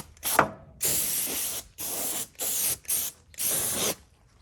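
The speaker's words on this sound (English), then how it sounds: "It's just like that canned air stuff." Canned air duster blasting a car in short pressurized hissing bursts, five or six sprays of varying length separated by brief pauses, close and loud.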